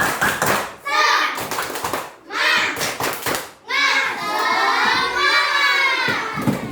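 Classroom children chant together in bursts, a rhythmic group clapping chant (tepuk semangat) with loud unison voices and quick claps between phrases, ending in a longer drawn-out shout.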